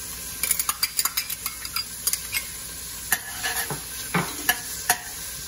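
Onion and chopped garlic frying in hot oil, a continuous bright sizzle with a quick run of clinking, scraping spatula strokes against the pan early on and a few more scattered stirs later.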